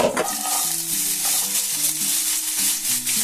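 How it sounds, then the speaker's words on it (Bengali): Vegetables and carrots fry and get stirred in a pan, a close, continuous sizzle with repeated scraping strokes, while tonal background music plays underneath. "দেখুন এগুলো কিন্তু হয়ে গেছে খুব সুন্দর ভাজা, আর সেদ্ধও হয়ে যাচ্ছে।"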